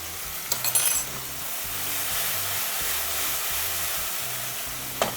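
Pasta cooking water is poured into a pan of hot garlic oil with parsley and hisses in a steady, close sizzle, with a couple of short clinks from a utensil at the start and end.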